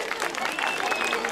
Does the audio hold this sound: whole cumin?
no